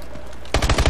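A quick burst of automatic gunfire in Call of Duty: Advanced Warfare multiplayer, several rapid close shots cutting in suddenly after a quiet moment.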